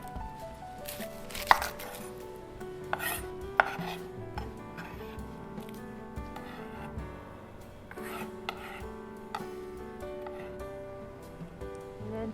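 A knife chops onion on a board for Hawaiian fried rice, with irregular close knocks and scrapes over low background music, no talk.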